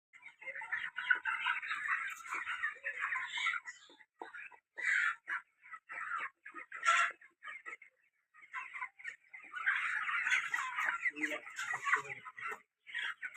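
Chickens clucking on a poultry farm, a close flock of busy, overlapping clucks and squawks in bursts with short pauses between.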